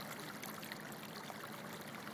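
Floodwater from the overflowing Rio de Loíza pours across a rural crossroads in Puerto Rico after Hurricane Irene, a steady, even rushing wash heard close and alone.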